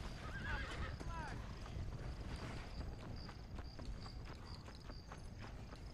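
A horse in the Undead Nightmare video game gives a short whinny near the start, with hoof clip-clops and game ambience continuing underneath.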